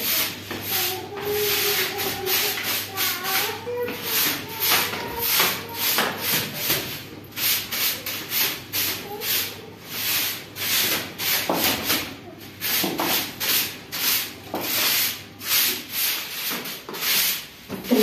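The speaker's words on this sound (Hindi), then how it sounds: "बड़ी मुश्किल से झाड़ू लगाना होता है" A broom sweeps a sandy, dusty floor in a home, making a steady rhythmic series of close scraping strokes repeated throughout with no voices.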